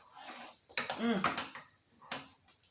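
A spoon stirs apple butter in a crock pot, making a few faint, sparse clinks and scrapes against the pot, with a voice heard briefly in the quiet background.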